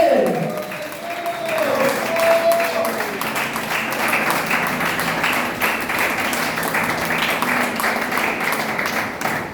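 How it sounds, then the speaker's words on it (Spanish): A church congregation applauding steadily throughout, a dense wash of clapping with a brief whistle-like tone near the start. "¡Aplausos, aplausos, aplausos, aplausos,"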